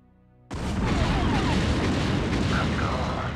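Nuclear explosion in the video game StarCraft Brood War Remastered: after a moment of near silence, a sudden loud deep blast bursts in and rolls on as a sustained rumble.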